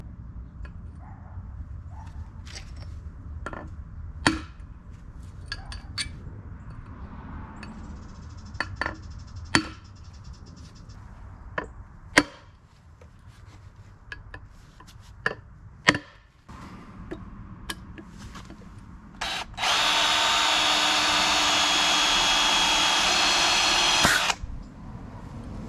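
Holes are punched into a shock absorber with a series of sharp, scattered metallic taps and knocks. A loud, steady hiss of gas then blows out for about five seconds before stopping abruptly.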